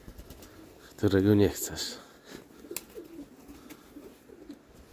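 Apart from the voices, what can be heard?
pigeons cooing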